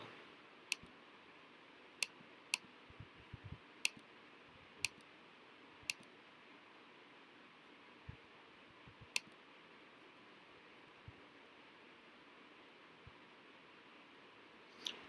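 Sharp, faint mouse clicks on a computer while signing into a web portal, a scattered handful of crisp isolated ticks over a low steady room hiss.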